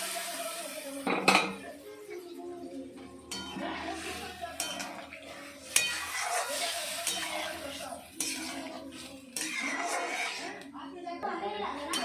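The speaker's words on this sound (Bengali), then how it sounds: "এবার সেদ্ধ করা আলুটা জল সহ দিয়ে দেবো" Boiled potatoes go into an egg curry in a pan along with their cooking water, with clattering pot and utensil sounds and stirring that continue throughout, under a speaking voice.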